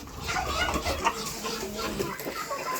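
Hens clucking in a coop, several birds murmuring and calling close by in a busy continuous chatter with a few louder clucks.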